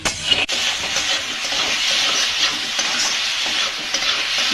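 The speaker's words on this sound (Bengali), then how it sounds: "এটা নাড়াচাড়া করে পুর তৈরি করে নেব" Coconut and sugar filling for puli pitha stirred and fried in a hot pan, a continuous sizzle with scraping spoon strokes, close and loud, with one sharp knock near the start.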